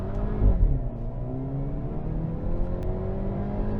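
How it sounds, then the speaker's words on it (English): A 2022 Hyundai Veloster N engine rumbles and climbs steadily in pitch as it accelerates in sport mode, a deep throaty exhaust note, close and continuous. "the sport mode changes the exhaust sound, build up some RPMs"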